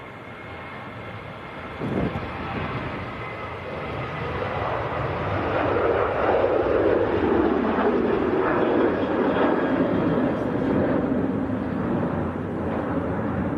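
A departing airliner rolling down runway 2 at Manchester Airport, heard from a distance behind trees as a broad rising engine roar that swells and holds steady, with no talking.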